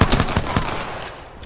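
Rapid burst of P2020 pistol gunfire in Apex Legends, several sharp close shots in quick succession at the start, then fading into a softer rumble of more distant fire.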